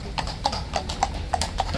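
A King's Guard horse walking off on pavement, hooves clip-clopping in a steady even rhythm of about six close, clear strikes with no talking.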